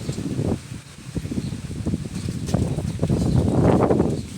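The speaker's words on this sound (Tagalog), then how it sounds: "Grabe pong hangin dito" Strong wind buffets the microphone in rough, uneven gusts, with faint rustling underneath and no voices.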